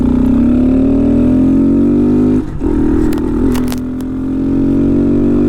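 A Honda Monkey fitted with a Chimera short ram intake and a Takegawa exhaust revs up close, its engine climbing steadily in pitch, then dipping and settling back to a loud, even drone.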